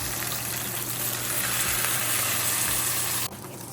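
Bangus (milkfish) frying in leftover oil from morning eggs, a loud close sizzle crackling steadily for a few seconds before dropping off abruptly near the end.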